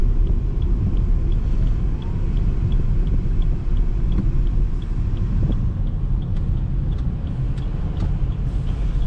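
Maruti Suzuki Baleno Alpha, a new car, driving through a turn, giving a steady low road rumble and engine hum heard from inside the cabin, with faint ticking like an indicator and no talk.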